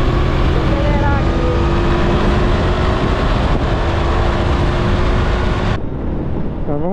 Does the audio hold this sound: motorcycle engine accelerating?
yes